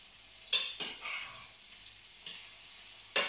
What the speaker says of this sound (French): Toujours à l'oreille, j'écoute si ça cuit suffisamment ou pas.